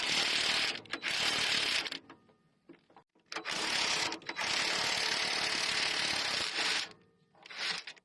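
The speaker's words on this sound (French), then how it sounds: "Donc là je vais desserrer mes petites vis de 17." Wrench working seized 17 mm bolts on a Land Rover Defender rear suspension: bursts of rapid ratcheting clicks, loud and close, broken by short pauses and quieter mechanical fiddling between them.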